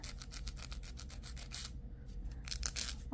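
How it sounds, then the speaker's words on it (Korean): A nail file rasps back and forth across the rough, freshly cut edge of a polygel nail, giving a string of close, quick scratchy strokes, a brief pause, then a few more louder strokes. "거칠면 이렇게 파일로 갈아주시면 됩니다."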